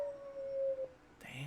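A dog in an apartment building lets out a faint, drawn-out howl that wavers and breaks off, followed by a brief louder yelp at the end.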